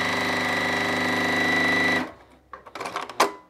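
A new sewing machine runs at its highest speed, a loud, steady, buzzing whirr for about two seconds that then cuts out, followed by a few short clicks and fabric handling sounds.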